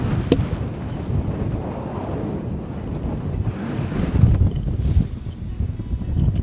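Steady wind gusts buffet the microphone outdoors on a Caribou expedition, a continuous low roar that swells and eases without a break and carries no voices.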